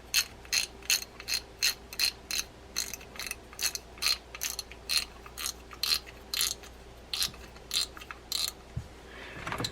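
A Shimano BR 4500B fishing reel ratchets in a regular series of crisp clicking bursts as its spool is reinstalled, close and clear against a quiet background, ending with a brief handling clatter.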